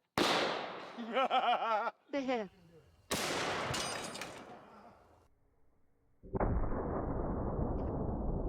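A shotgun fired outdoors during shooting tests, giving sharp loud blasts with brief ringing decay, separated by short gaps and broken by bursts of voices.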